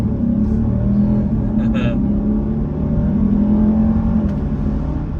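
A Jeep Grand Cherokee 4xe accelerating in winter, a steady loud low engine rumble and drone heard from inside, with someone talking over it.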